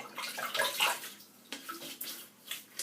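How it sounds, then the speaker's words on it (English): Water splashes in bursts as a face is rinsed at a sink, with soft irregular sloshes and drips, close and fairly quiet. "just going to rinse my face"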